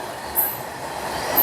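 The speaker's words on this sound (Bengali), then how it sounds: "এই মুহূর্তে আমরা দেখতে পাচ্ছি মালগাড়িটি যাচ্ছে" A freight train hauled by a WAG-9HC electric locomotive rolls past near Purulia station, a loud steady rumble of wagons with faint high wheel squeals rising twice.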